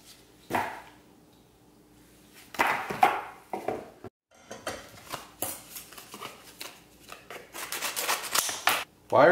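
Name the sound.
struggling to open SD card packaging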